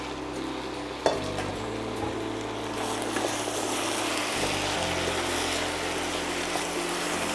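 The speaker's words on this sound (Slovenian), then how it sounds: "Spet premešamo," Diced apples being stirred into a simmering cherry chutney in a pot, a steady bubbling sizzle with soft scraping and a sharp clink near the start, continuous and close.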